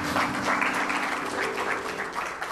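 A church congregation applauds to acclaim the Lord during a French-language service, producing a dense, continuous patter of clapping heard from a moderate distance with no talk.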